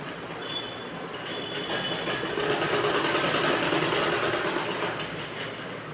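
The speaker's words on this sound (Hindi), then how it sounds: "इसको हम स्टिच करेंगे" A sewing machine stitches a folded seam on a net fabric blouse, running as a fast, steady mechanical whir that swells slightly in the middle, close up with no speech.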